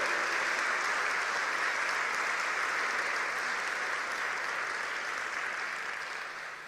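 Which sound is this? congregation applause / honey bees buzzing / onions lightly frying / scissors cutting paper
congregation applause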